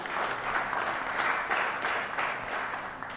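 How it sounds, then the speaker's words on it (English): Audience clapping at a live comedy show and podcast taping, a dense, steady round of applause that swells and dips slightly in loudness throughout, with no voices standing out. "So I want to give him a round of applause"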